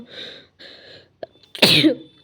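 Two breathy intakes are followed by a sudden, loud, explosive cough burst from one person close by.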